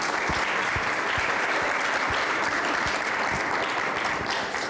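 An audience at a public presentation breaks into continuous applause, dense clapping close and loud throughout, tapering slightly at the end.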